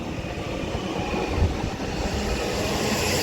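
A TransPennine Express class 397 train at Wigan North Western station rolls past with a steady rumbling roar and a faint rhythmic clatter of wheels on track, loud and close.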